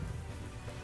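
Steady rain spell effect from the card game Across the Obelisk, a soft continuous patter of falling rain that holds evenly from start to finish, fairly quiet and with no voices over it.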